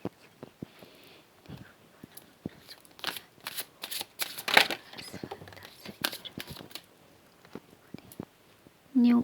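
A deck of tarot cards being shuffled by hand, a run of crisp riffling and flicking bursts that come and go, fairly close and moderately loud, with a short low hum at the end.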